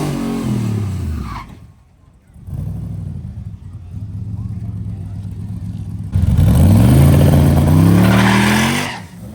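Turbocharged 4x4 drag car making a pass with its wheels spinning, the engine note loud and rising in pitch as it revs hard, with a brief lull before a louder, harsher stretch of acceleration.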